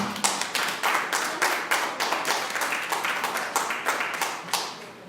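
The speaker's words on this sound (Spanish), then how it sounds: "Denle un aplauso al Señor." Church congregation clapping in a steady, brisk rhythm, loud and close with sharp, even beats about four per second, continuing without talk for around five seconds.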